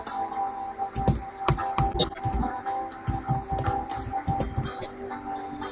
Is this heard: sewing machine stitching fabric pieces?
no